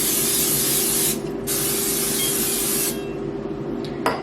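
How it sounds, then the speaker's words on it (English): Olive oil cooking spray hisses onto pork chops in loud, close bursts, a long spray with a brief pause, then a shorter spray and a final quick puff. "I forgot to spray the tops of them with the olive oil spray"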